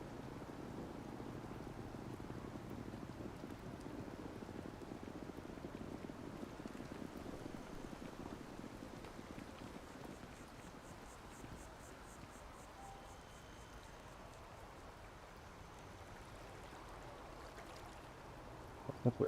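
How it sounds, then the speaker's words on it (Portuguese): Rain falls in the video game Starfield as a soft, steady wash of hiss, quiet and continuous throughout, with no voices over it. "Olha a chuva caindo."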